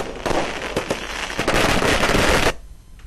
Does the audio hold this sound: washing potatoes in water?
no